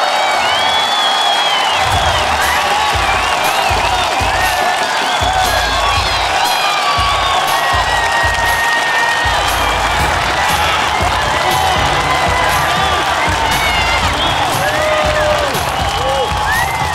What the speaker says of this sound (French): donc on vous applaudit